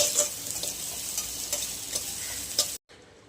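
Ginger-garlic paste stirred in a hot pan for fried rice, a steady close sizzle with scraping spoon strokes, cutting off abruptly near the end.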